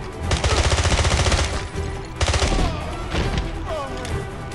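Rapid automatic gunfire in the video game 007 Blood Stone, loud rattling bursts with a steady machine-gun rhythm, repeated in several volleys over game sound.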